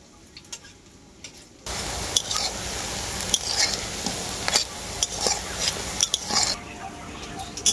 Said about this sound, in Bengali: সজনে ডাঁটাগুলো খুব ভালো করে আমি ভেজে নিয়েছি, একদম লাল লাল করে